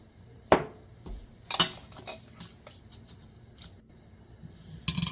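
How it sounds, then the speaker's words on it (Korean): A utensil stirs rice mixed with grains, three pieces of kelp and two spoons of tsuyu in a cast-iron pot. It makes intermittent scraping clinks and a few sharp knocks against the metal, with quiet gaps between. "뒤적뒤적 잘 섞어줍니다."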